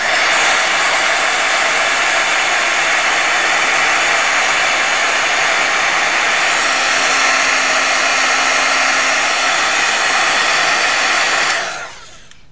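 A hair dryer blows steadily on a piece of mixed media artwork, a loud continuous whoosh with a motor hum that runs unbroken for about eleven seconds, then is switched off and winds down at the end.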